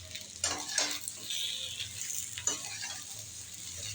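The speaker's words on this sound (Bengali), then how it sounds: "পেঁয়াজের সঙ্গে পুরো বেগুনটা মিশিয়ে নেব।" Fried eggplant being stirred into reddened onion and spices in a pan, a steady sizzle broken by several scraping stirs and clinks near the start and middle, no one talking.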